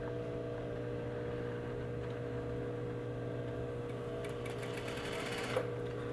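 A sewing machine hums steadily, sewing a western pocket down the center of an overlocked seam. The close, continuous motor drone runs throughout, with a brief faster burst near the end.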